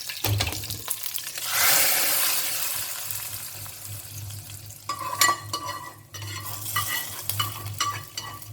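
Tempering with curry leaves is poured into sambar, a sudden loud hiss and sizzle, then stirring with metallic scrapes and clanks of the ladle, close up, no talking.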